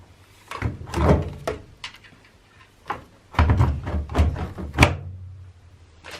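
A series of thumps and clunks, handling and then a firm shut of a washing machine door after loading a towel and mittens, close by and irregular, with no talking.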